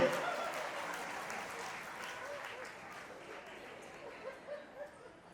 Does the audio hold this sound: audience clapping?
yes